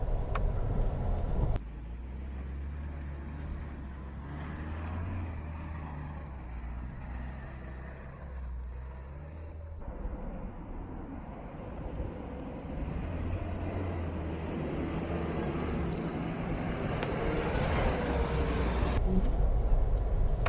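A 2019 Suzuki Jimny's 1.5 engine crawling up a snowy hill in low-range first gear, a steady low drone that rises slightly toward the end, with cabin rustle and no talking.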